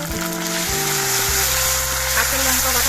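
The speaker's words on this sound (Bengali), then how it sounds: "আদাটা ভাজা হয়ে যাওয়ার পর এর মধ্যে দিয়ে দিচ্ছি 1 চামচ কাঁচা লঙ্কা বাটা।" Green chili paste sizzling loudly in hot oil with already-fried ginger in a pan for a mixed vegetable sabji, a steady close frying hiss with low tonal hum underneath.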